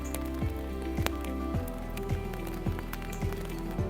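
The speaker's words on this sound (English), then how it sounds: "It's raining." Steady rain pours down on a garden, a dense continuous hiss with scattered drips and patters close by, with a regular low thumping running underneath throughout.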